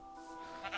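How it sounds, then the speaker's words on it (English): Minecraft sheep giving a single drawn-out bleat, close and clear over a steady game background hum. "God damn it, sheep."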